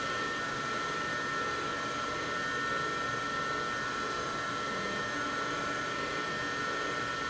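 An electric mixer whirs steadily through blueberry cake batter, a continuous even motor drone that stays close and fairly loud from start to finish with no voices.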